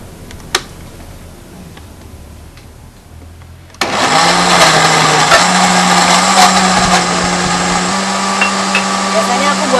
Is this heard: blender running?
yes